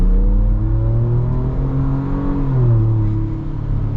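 A V6 engine in a 2025 mid-size pickup truck, a Ranger Raptor or Colorado ZR2 Bison, accelerates hard. Loud, steady close engine roar with rising and falling harmonic tones as it revs through the gears, and no talk.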